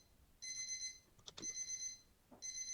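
An electronic alarm-like completion chime from an AI-made classroom management program beeps in three bright, evenly pulsing bursts, quiet and clean with a couple of faint clicks between them.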